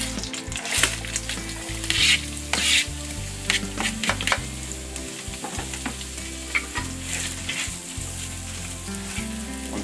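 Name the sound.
diced shallots frying in butter in a pan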